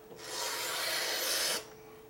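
A CRKT folding knife blade is drawn through material in a cutting test, making one smooth, rasping stroke that lasts about a second and a half before it cuts off sharply.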